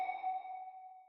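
A lone pitched percussion hit from an R&B beat in FL Studio rings with a pure, sonar-like tone and bell-like overtones. It starts with a sharp attack and sustains as it slowly fades over about a second. Nothing else plays alongside it.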